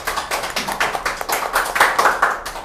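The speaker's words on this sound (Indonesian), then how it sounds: "tepuk tangan dong" Brief clapping from a small audience at an Indonesian talk show, a run of distinct close handclaps with a quick, uneven rhythm at moderate loudness.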